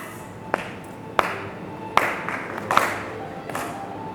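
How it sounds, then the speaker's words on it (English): Sharp single hand claps land every second or so, isolated and crisp, over a soft backdrop of music in a scene where a dancer sways to the tune. "and there are occasional claps"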